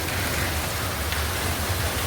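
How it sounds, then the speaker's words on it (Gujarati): Heavy rain pouring steadily, a dense, even wash of hiss with a low rumble underneath, continuous and close throughout. "અહીંયા જો વરસાદ અત્યારે બહાટીને બાકા ઝીકી બોલાવે છે"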